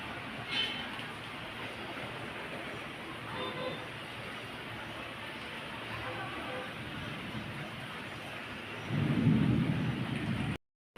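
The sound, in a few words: thunder and rain during a storm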